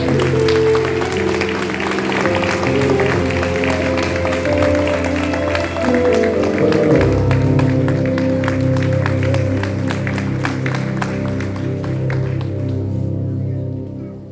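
A church congregation applauds steadily during a worship service, a dense wash of clapping beneath sustained music and organ-like tones that runs the whole time, with no break.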